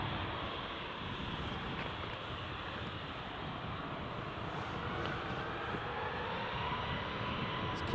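KLM airliner engines at Newcastle International Airport on a rainy day, a steady broadband roar that holds even and fairly loud throughout, with no voices.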